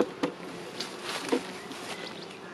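A honeybee colony buzzes steadily during a spring hive inspection before being moved into a new hive. The close, continuous drone is broken by a few soft taps and knocks.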